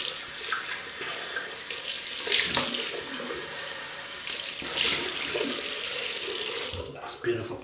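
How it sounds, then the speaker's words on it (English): Tap water runs steadily into a sink for a rinse after a wet shave with a 1966 Schick Krona double-edge razor, a close, continuous rush that swells and dips as hands move through the stream. "I'll just rinse off."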